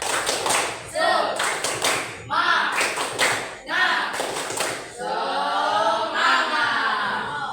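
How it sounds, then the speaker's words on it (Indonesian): A classroom group performs the 'tepuk semangat' spirit clap, striking quick rhythmic bursts of patterned claps that alternate with short chanted phrases from many voices. "Tepuk semangat dulu."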